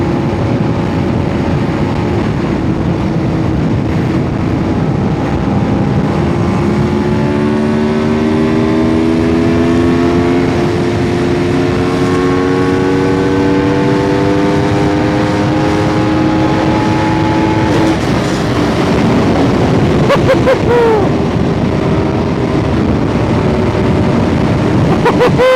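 Aprilia RSV4 superbike engine revving hard and climbing through the gears to fifth, each upshift bringing a rising whine that drops and climbs again, loud and continuous with wind roar, close to the rider.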